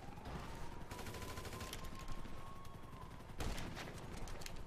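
Video game gunfire crackles without pause through a busy battle, dense rapid shots layered with heavier bursts, a steady tone running underneath and a sharp louder volley near the end.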